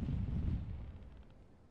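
A deep, booming cannon shot from a pirate ship in a video game, a single heavy blast that rumbles and decays over a second or so.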